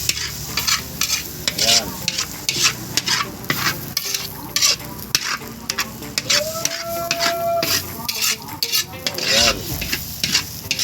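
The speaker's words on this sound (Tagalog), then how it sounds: "Tapos haluin na natin." Goat sisig with brain and heart being stirred in a hot pan, heard as a steady loud sizzle with rapid rhythmic scraping and clacking of a utensil, while a voice speaks briefly over it.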